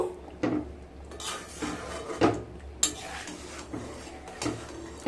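A spoon scrapes and knocks against a pot as a spoonful of ghee and fried spices is stirred into shukto dal, a bitter dal. The sparse clinks and scrapes come close up, with no voices.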